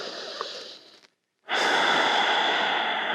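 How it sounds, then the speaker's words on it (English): Quick breathing during a yoga session, a loud close rush of air through the nose or mouth, a brief pause, then another strong sustained breath. "Take a few quick breaths."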